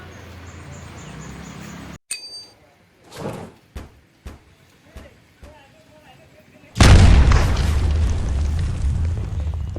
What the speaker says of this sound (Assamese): ইয়াতে আমি গ্ৰেনেড ব্লাষ্ট কৰিম।